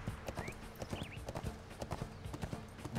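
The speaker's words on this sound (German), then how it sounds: "Warum reiten wir eigentlich mit 2 Pferden?" Horses ridden in the video game ArcheAge, their hooves making a steady, fairly close clip-clop with busy overlapping steps and a faint whinny, over low game background sound.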